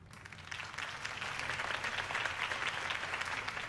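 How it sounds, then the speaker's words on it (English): Sustained crowd applause in the video game Batman: The Telltale Series, a dense wash of clapping hands at moderate distance, steady and unbroken throughout. "could have heard that applause"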